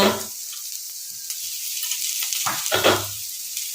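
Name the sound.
grated carrot sautéing with onion in a pan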